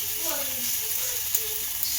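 Vegetable fried rice frying on a high flame gives off a steady, close hiss and sizzle, with faint stirring clicks and a voice talking over it.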